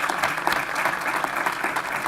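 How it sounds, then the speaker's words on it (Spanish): An audience at an investment market forecast event applauds the fund managers, with steady, dense clapping that stays loud and even throughout. "Yo creo que se merecen un aplauso claramente todas las gestoras."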